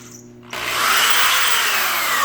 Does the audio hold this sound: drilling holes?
yes